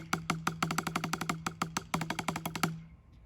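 Sixteenth-note drum pattern played as a diddle sweep across electronic drum pads, a rapid, even stream of close, crisp hits with a steady low tone under each stroke, broken by brief gaps before ending and ringing out.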